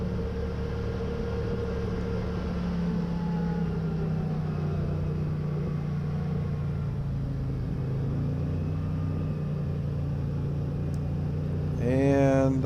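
A CFMOTO ZFORCE 800 EX UTV running in four-wheel drive on a snowy winter hill road, its engine a steady low drone throughout with a faint whine rising at the very end.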